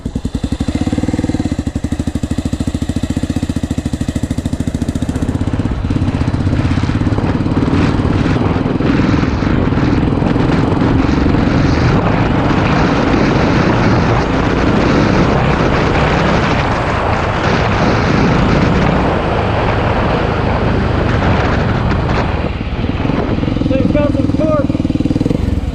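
A small motorcycle engine, a Honda TRX 125 or XR 500, pulls away in third gear with a loud, steady, strained drone that rises and holds throughout, close to the microphone, with a voice talking over it.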